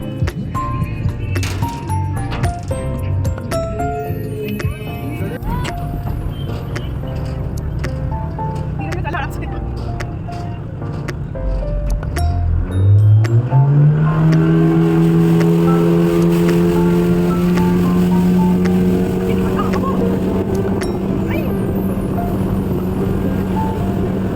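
A speedboat engine on Pawna Lake, Lonavala, rises in pitch partway through and then holds a steady, loud drone, with people talking over it throughout.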